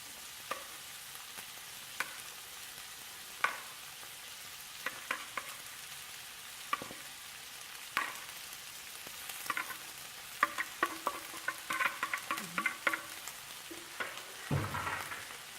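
Rice, vegetables and pork stir-fried in a wok give a soft continuous sizzle with frequent clicks and scrapes from a stirring utensil, which grow busier and louder toward the end, with no speech.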